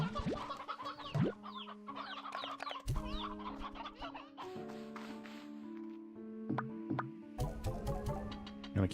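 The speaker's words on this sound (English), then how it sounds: "Gonna keep some roosters in there as backup." In a video game, roosters cluck and chatter in steady overlapping bursts, moderately loud, with layered tonal game sounds and notes running beneath them throughout.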